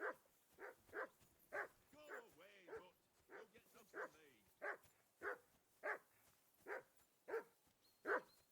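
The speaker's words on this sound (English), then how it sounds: "Call off that mutt of yours!" Dog in Kingdom Come Deliverance 2 barking repeatedly in a steady rhythm of sharp, fairly clear barks with a few whimpering yips between them, alone at moderate distance.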